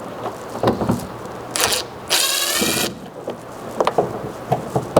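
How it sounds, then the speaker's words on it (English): A Phillips driver works the tailgate cover fasteners loose on a Nissan Frontier. Short sharp bursts are followed by a sustained whirring run of almost a second, then scattered clicks and taps close up, with no talk. "to remove those you need a Phillips head driver or Phillips screwdriver"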